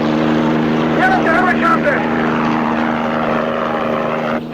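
A continuous engine drone with a low rotor-like thrum fills the clip, while a voice calls out faintly beneath it.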